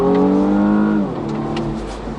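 A 2019 BMW M135i xDrive pulling away hard in Sport mode, its engine note loud and close, rising in pitch for about a second before easing into a lower steady drone.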